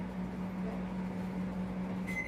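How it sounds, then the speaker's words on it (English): A microwave oven runs with a steady low electrical hum while heating melt-and-pour soap base, ending in a brief high beep near the close. "we're gonna put this in the microwave now and do it in 30-second intervals"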